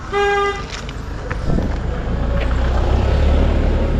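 On a road in Dapoli, a vehicle horn gives one clear toot of about half a second, then passing vehicles rumble in a steady low drone that builds and holds close by.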